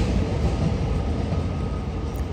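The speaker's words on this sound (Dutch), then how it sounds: "er komen steeds treinen aan" A train pulling into a station makes a steady, loud rumble of rolling wheels and railcars that runs the whole time without a break, with no voices.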